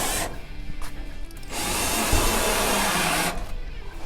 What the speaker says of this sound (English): These Spax screws will go through the sheet metal quite easily.